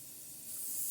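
A close, steady hiss of olive oil cooking spray misted into a pan for taco pie, growing slightly louder over its one-second burst.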